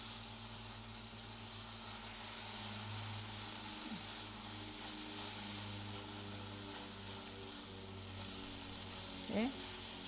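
Young papaya filling for pempek sautéing in a pan with no added water gives a steady, close sizzle and hiss that carries on throughout, with a low hum underneath.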